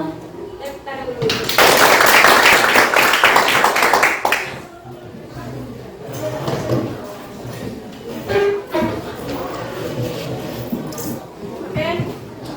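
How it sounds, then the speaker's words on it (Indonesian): A school class in Indonesia claps hands together in a loud, dense burst lasting about three seconds, then a teacher talks over light classroom bustle and scattered noise. "Tepuk tangan dulu."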